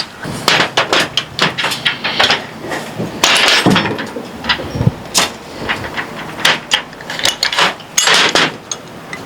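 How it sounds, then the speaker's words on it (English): Rusty pipe wrenches strain on the threaded ports of a 9mm BinTac S45 Nitro airgun during a teardown, giving a loud, close series of irregular metallic clanks and knocks. "See if we can like use our rusty trusty pipe wrench to at least adjust these ports."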